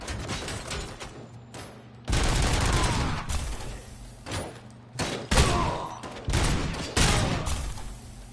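Rapid bursts of automatic gunfire and heavy impacts in the RoboCop: Rogue City video game, loud and close, coming in several clusters with brief gaps between volleys.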